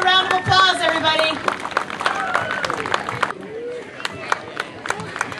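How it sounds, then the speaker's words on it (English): An audience at a Little League opening day event gives a scattered round of applause, the patter of clapping mixed with shouts and overlapping voices. "Let's give Jed a round of applause, everybody."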